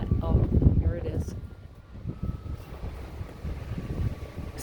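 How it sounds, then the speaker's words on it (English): Gusty wind at the beach in North Myrtle Beach, South Carolina buffets the microphone with a low rumble, rising and easing throughout, while a person talks briefly near the start. "it's a windy day here."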